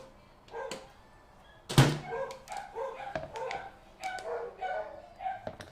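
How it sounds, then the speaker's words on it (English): Several dogs bark in sharp, irregular bursts with a whimper or yip between them, at a moderate distance. "So sorry about the noise of the dogs in the background there."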